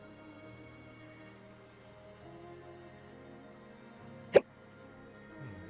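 A single sharp hiccup pops out suddenly against a quiet, humming background, one short burst with nothing else around it.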